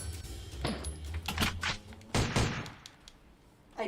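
Video game gunfire crackles in rapid, uneven bursts of sharp shots, fairly loud and close, with no talking over it.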